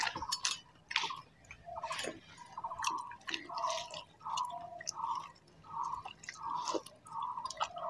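Someone chews a mouthful of bitter gourd curry close to the mic, with soft wet, rhythmic clicks and smacks repeating steadily and no talking.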